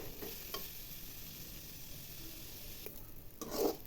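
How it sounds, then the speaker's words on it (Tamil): Ridge gourd peel sautéing in a pan over medium flame, a soft steady sizzle with occasional stirring scrapes, swelling briefly near the end. "இதை ஒரு 5லேருந்து 7 நிமிஷம் மீடியம் ஃப்ளேம் வச்சு நல்லா வதக்கி எடுத்துக்கலாம்"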